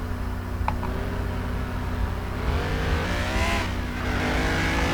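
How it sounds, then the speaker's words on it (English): Car engine in the racing game Midnight Racing: Tokyo, driving a map at night, roars loud and steady throughout, with rising revs and pitch sweeps as it accelerates. "This car is actually really loud."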